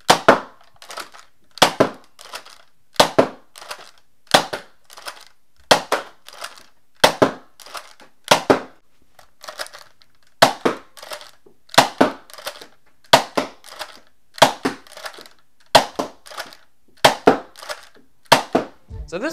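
A modified Nerf Valiance Hammershot blaster fires Worker short darts: about fifteen sharp, snappy cracks, each with a quick mechanical click, repeated at a steady pace of roughly one every second or so, close and clear with silence between.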